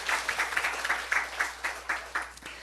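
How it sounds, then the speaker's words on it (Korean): Church congregation clapping in a sanctuary, a string of distinct rhythmic claps at a steady beat, moderately loud and without voices. "우리 하나님께 박수 올려드립니다."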